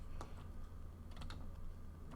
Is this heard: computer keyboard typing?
yes